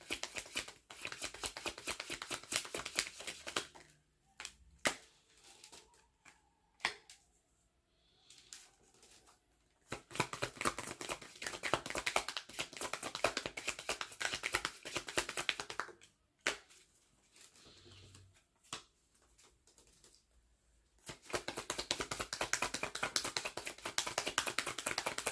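Tarot cards are shuffled in repeated quiet riffling bursts, each lasting several seconds and separated by short pauses, soft and close with no talking.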